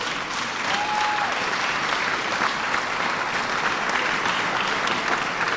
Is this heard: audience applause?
yes